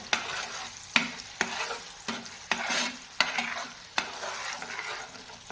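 Masala for a Malvani-style prawn curry is stir-fried in hot oil, a busy sizzle broken by regular sharp scrapes of the spoon against the pan about every half second, close and steady, with no talking.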